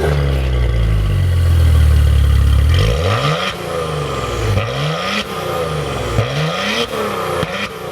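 A Maserati Levante crossover's V6 exhaust roars loudly through quad pipes, first idling low, then revving in several rising and falling sweeps with crackles between the blips, heard up close.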